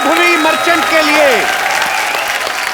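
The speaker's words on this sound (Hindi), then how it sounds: "जोरदार तालियां एक बार वैभवी मर्चेंट के लिए।" Studio audience applause at a Kapil Sharma Show comedy taping, a steady, dense wash of clapping that runs throughout, with a voice speaking over it.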